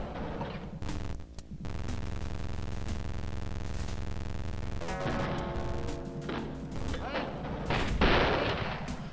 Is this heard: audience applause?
no